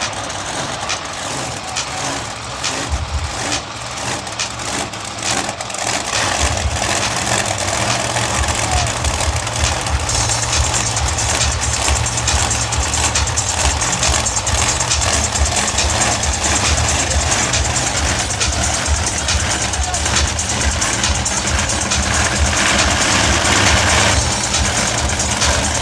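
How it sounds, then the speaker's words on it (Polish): A monster truck engine at a show in Poland rumbles steadily and loudly, its deep idle rising after a few seconds and holding a continuous throbbing drone throughout, with faint crowd noise behind. "Start your engine."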